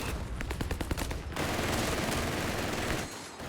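Continuous machine gun fire in a Company of Heroes 3 battle rattles in rapid bursts, dense and steady throughout, with a slight drop near the end.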